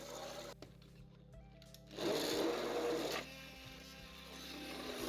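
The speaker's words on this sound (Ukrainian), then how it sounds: "збиваємо добре це все погружним блендером, щоб не залишилося в нас ніяких кусочків." A motorized whir rises suddenly and runs steadily for about a second before dropping away, an immersion blender churning cooked zucchini and vegetables into a thick spread.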